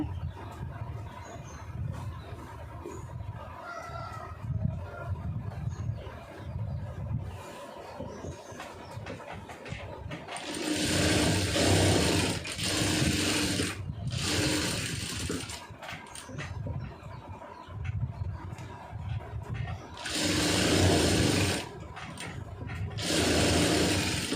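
A sewing machine stitches a lined blouse, whirring in two long, loud bursts with quieter handling and brief pauses between them, close by.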